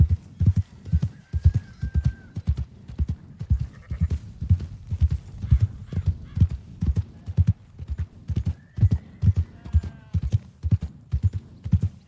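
Horse hooves clip-clop in a steady, loud, continuous rhythm throughout in the video game Red Dead Redemption 2, with a couple of neighs or whinnies rising above the galloping around the first and last thirds.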